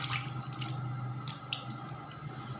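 Water from a tap splashes and drips softly as hands are washed at a sink, a faint, steady trickle with small irregular splashes.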